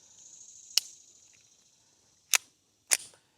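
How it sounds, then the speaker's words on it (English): A suppressed Ruger Mark IV 22/45 pistol firing Aguila subsonic .22 ammunition: three quiet, sharp snaps, two close together near the end, over a faint high whine. "I got some Aguila Subsonic ammo that I wanted to test too."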